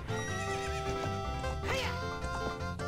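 A horse neighs loudly in Zelda Ocarina of Time at Lon Lon Ranch, one long whinny rising and falling over steady game music, with faint hoof clip-clop.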